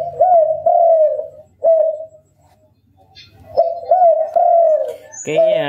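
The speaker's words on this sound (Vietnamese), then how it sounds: "Cái tiếng chim bên em là tiếng chim em tự làm nha anh em" Repeated soft cooing of a spotted dove played through a bird-luring loudspeaker, phrases in two bursts separated by a quiet gap, loud and close, with a brief sharper sound at the end.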